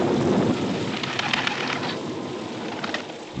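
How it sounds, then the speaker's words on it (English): Heavy rain pours steadily as a recorded sound effect, a dense continuous hiss with low rumbling thunder swelling near the start, then settling into a constant downpour. "Even though the rain was falling hard"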